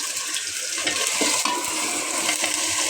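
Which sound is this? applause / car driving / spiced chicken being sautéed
spiced chicken being sautéed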